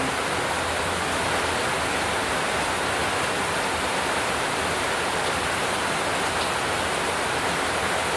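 Steady rain during the rainy season, a dense, even hiss of falling water that fills the whole stretch without a break, close and fairly loud, with no voices.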